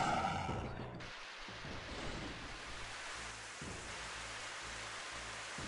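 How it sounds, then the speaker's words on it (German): Steady rain falls in the video game Unterwegs in Düsterburg, a continuous broadband hiss that fills the scene at an even level with no other clear sounds over it. "Es regnet."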